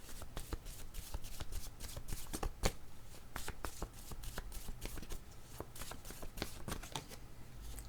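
Word cards are shuffled in quick repeated riffles and flicks, a steady run of soft papery slaps and brushes throughout, close and fairly quiet with no talk.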